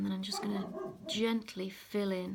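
A Dalmatian barks in short bursts in the background while a person speaks calmly over it.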